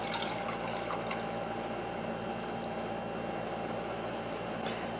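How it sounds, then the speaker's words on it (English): Sixteen ounces of tap water poured into a pot for a cook-set test, a continuous close, full splashing rush that stays steady and loud from start to finish. "going to pour in my water. I've got 16 ounces of tap water."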